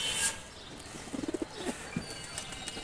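Pigeons of old colour breeds, including a red lipstick almond silver pair, give a short run of soft cooing pulses near the middle, then a couple more coos, under faint rustling and background noise.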